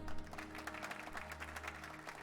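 Soldiers clap in the video game Valkyria Chronicles: faint, rapid patter of many hands over a low steady hum of game music.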